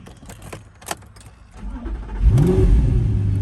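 A few light clicks and jingles, then the 4.2 V8 engine of a 2008 Audi R8 coupe cranks, catches with a loud rev and settles into a deep, rumbling idle.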